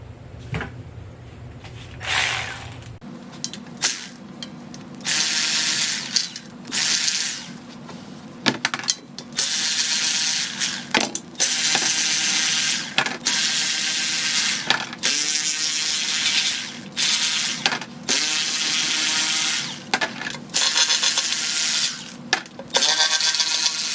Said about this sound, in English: Now we can pop the rest of these bolts out.